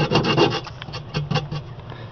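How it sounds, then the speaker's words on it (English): Heavy-grit sandpaper rubs over painted surface in quick back-and-forth strokes, a loud, close, raspy scratching that repeats steadily with no talking. "you'll want to go over it with the heavy grit first so it'll break up the"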